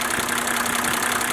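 A diesel engine idles steadily during a diesel purge, a constant loud mechanical hum with a fixed drone and faint knocking texture, close to the microphone and with no talk.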